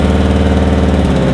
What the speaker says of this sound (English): the current state of the car sounds like a tractor